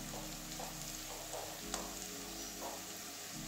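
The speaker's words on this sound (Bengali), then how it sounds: "এবারে আদা রসুনের কাঁচা গন্ধটা যাওয়া পর্যন্ত ভাজবো।" Ginger, garlic and spices fry in a pan with a soft, constant sizzle and faint stirring scrapes, quiet and steady throughout.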